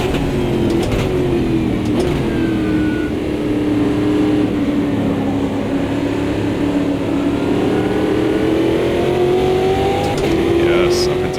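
A race car engine in a racing video game on the Nürburgring, a steady high-revving drone with pitch sweeping as gears shift, continuous and prominent with someone talking over it.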